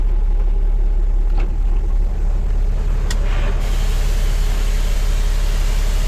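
A truck idles through mud, its engine a steady, close, low rumble that holds an even drone for the whole stretch without talk.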